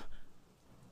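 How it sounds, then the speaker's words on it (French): Rain and hail sound effect in a French radio play, a brief hissing, pattering wash that starts loudest and quickly settles into a fainter steady patter. "Il pleut, et il grêle à faire plaisir."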